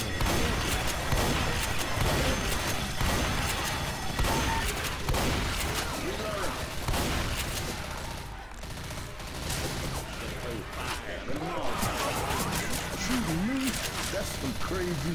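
Gunfire from a video game sounds as bursts of shots and rattling fire mixed into a dense, busy game soundscape, with players talking over it throughout.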